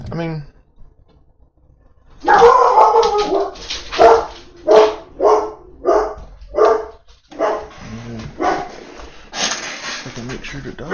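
Dog barking in The Outer Worlds video game, a run of about seven loud, evenly spaced barks after a brief quiet stretch, with talk over parts of it.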